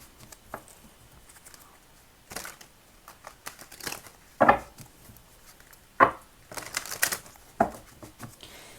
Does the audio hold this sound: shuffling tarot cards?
yes